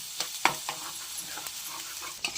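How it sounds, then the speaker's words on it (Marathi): Chopped onions sizzle and crackle steadily in a hot pan, with a few scraping stir strokes, close and alone. "कांदा पूर्णपणे कांदा पूर्णपणे शिजवून घेऊ मस्त वेगळे"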